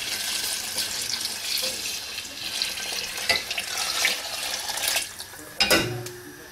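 Tripe-tenderizing broth, about eight cups, is poured into a pot for kare-kare, a steady splashing, gurgling stream close by that runs continuously with a couple of heavier sloshes near the end.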